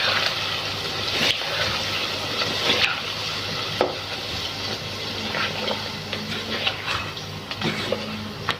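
Cream is stirred into white chicken karahi in a pan, with repeated close scraping strokes and wet slapping over a soft sizzle; no one talks.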